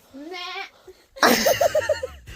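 A goat in a cowshed bleats twice, a wavering nasal cry followed by a louder, longer quavering call, close by with some room noise.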